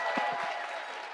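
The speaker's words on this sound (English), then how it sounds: "Another round of applause." Crowd applause at a charity fundraising gala, a dense wash of clapping from a large audience, steady and fairly loud over about a second, with a few low vocal bursts at the start.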